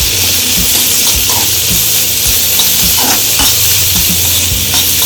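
Capsicum with ginger garlic paste fries in a pan, a loud, close, continuous sizzle with intermittent stirring scrapes, cooking for a capsicum and potato masala curry.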